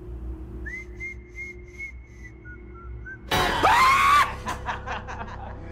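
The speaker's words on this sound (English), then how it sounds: "Play this 1928 clip of Steamboat Willie. Do the same whistle." Whistled tune from the 1928 Steamboat Willie cartoon, a series of short clear whistle notes, followed by a loud burst of screaming and laughter that fades into chuckles.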